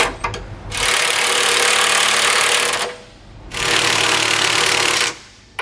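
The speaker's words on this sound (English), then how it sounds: "We can now go back and tighten down our hardware using a 19mm socket and wrench." Bolts on a Roadmaster rear anti-sway bar install on a 2018 Mercedes-Benz are tightened with a 19mm socket, giving two sustained, loud, buzzing mechanical bursts about two seconds each, separated by a short pause.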